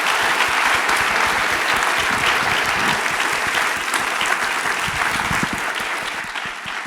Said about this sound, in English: let's give a big round of applause to our speaker.